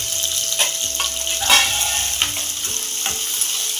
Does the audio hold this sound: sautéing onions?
yes